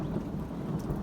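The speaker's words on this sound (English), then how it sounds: "What you are hearing is the thunder." Low rumbling thunder rolls steadily over a soft hiss of rain, a deep continuous grumble without clear breaks.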